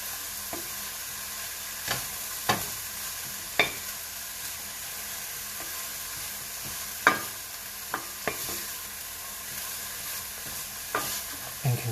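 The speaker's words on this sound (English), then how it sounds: "you're going to go ahead and stir this around until you get a nice mixture of onions" Onions frying in a pan for a turkey and beef meatloaf, a soft continuous sizzle broken by scattered sharp scrapes and clacks of a utensil stirring, close and fairly quiet, no talking.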